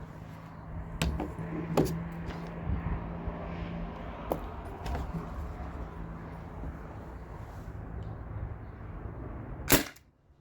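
A T4E TR68 HPA-powered marker fires round ball shots, giving a few sharp, loud pops spaced irregularly over a low steady background hiss, with one strong crack near the end.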